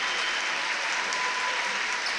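Basketball fans at a boys high school game applaud a player, dense steady clapping from a crowd filling the gym, sustained throughout with no clear talk on top.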